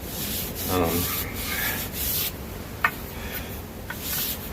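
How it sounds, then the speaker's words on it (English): Sandpaper rubbing back and forth over a wooden hiking stick in steady scratchy strokes, close up, with a couple of small knocks. "I did rough sanding, and then I did smooth sanding."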